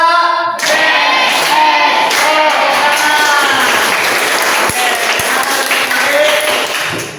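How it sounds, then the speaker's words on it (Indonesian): A classroom of students claps together, a dense, loud burst of applause that starts abruptly and holds steady for several seconds before tapering off, with a few voices calling out through it. "Kita berikan aplaus untuk kelompok 2."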